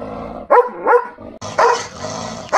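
A Romanian Raven Shepherd dog (Ciobănesc Corb) barks loudly and close several times in quick, uneven succession over steady background noise, with whimpering tones between barks.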